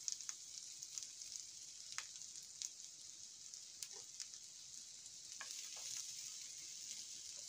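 Chopped onion sizzles in a pan for chili, a soft, steady hiss broken by small pops and stirring scrapes, heard alone.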